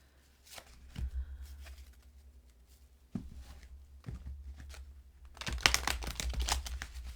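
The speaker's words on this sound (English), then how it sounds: "these cards just feel like they need extra shuffling about." Oracle cards rustle and flick in soft bursts with a few low thumps, building to a louder riffling shuffle toward the end, close and without talk.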